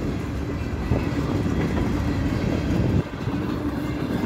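Conrail freight cars rolling past at a rail crossing near Niagara Falls, Ontario, a loud, close, continuous rumble and roar of wheels on track with a jolt partway through, no voices.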